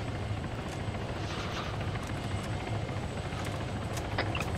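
Military helicopter in the game Arma 3, a constant loud rotor thump and turbine whine filling the whole stretch, close and steady with no talk over it.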